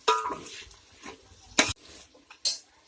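Prawns coated in masala powder are stirred in a pan, giving a few sparse metallic scrapes and clinks of a utensil against the pan with quiet gaps between them.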